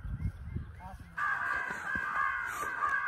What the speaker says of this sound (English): I shot at that crow at about 5 yards, completely missed.